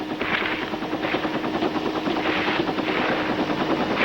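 Military helicopters airlifting Marines to land behind enemy positions during a beach assault, a steady loud rotor chop with pulsing bursts throughout, no speech.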